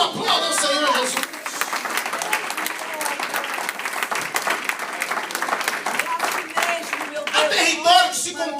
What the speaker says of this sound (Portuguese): Oh, aplauda o Senhor Jesus.